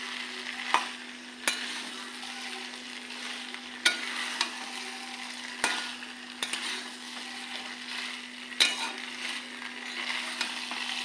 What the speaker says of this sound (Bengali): এবার আমরা আলুটা আর চানাটা দিয়ে দেবো। আলুটা চানাটা দিয়ে একটু কষিয়ে নেব।